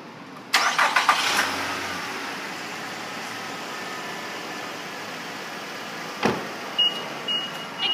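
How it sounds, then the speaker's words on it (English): A 2012 Nissan Altima engine cranks briefly and catches, then settles into a smooth, quiet idle heard close by, with a couple of faint clicks near the end. "You can go ahead and pop open the hood and get it started so you can hear it."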